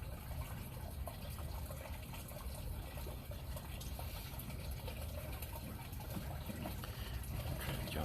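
Water flows steadily through a buried pipe run joined at hubs every three feet, heard as a continuous low, rushing, gurgling wash, faint and distant, with no break across the stretch.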